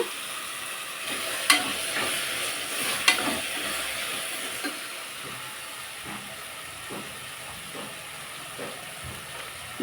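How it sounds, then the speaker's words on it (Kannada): Dill greens sizzle steadily in a pan for rice bath while a spoon stirs them, sharp metallic scrapes and clinks cutting through the soft, continuous frying hiss. "ನೋಡಿ ಈಗ ಸೊಪ್ಪು ಎಲ್ಲ ಚೆನ್ನಾಗಿ ಫ್ರೈ ಆಗಿದೆ"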